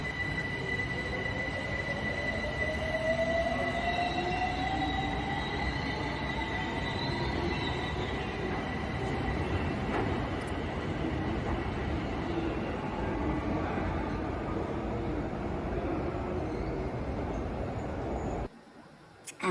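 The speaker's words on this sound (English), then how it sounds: "train" A train rolls past with a continuous heavy rumble of wheels on rails, steady and close, while thin high squeals of the wheels rise and fade over it, ending in a sudden cutoff near the end.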